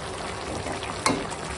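Vegetable curry with greens being stirred in a pan gives a steady, close sizzle with a soft bubbling hiss, broken once by a short utensil clink.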